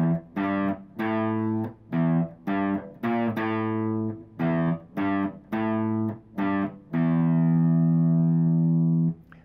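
Electric guitar plays a riff on the lowest string, a string of short, separate notes in the familiar rhythm ending on one long sustained note, clean and close with no voice.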